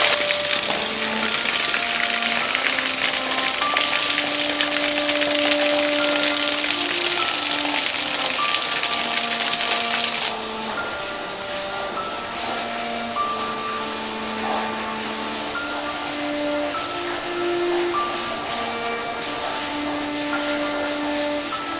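Water gushes loudly from a rock crevice spring inside a tunnel, a dense roaring hiss that holds steady, then drops to a quieter rush about halfway through, with tonal music layered over it.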